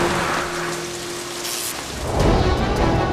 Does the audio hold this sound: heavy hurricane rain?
yes